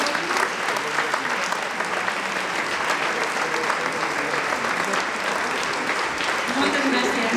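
Steady applause from a crowd at a town fair opening proclamation, dense and sustained throughout with a constant roar of hands, some voices mixed in.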